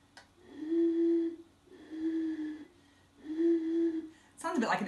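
A low, hollow hooting tone from blowing across a bottle mouth, repeated three times with pauses, steady and close, followed by a brief burst of noise.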